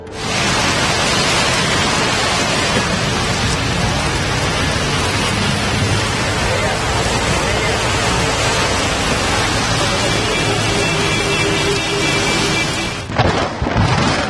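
Heavy evening rain in Tumakuru pours down as a loud, unbroken roar with thunder rumbling through it, continuous for the whole stretch with no voices.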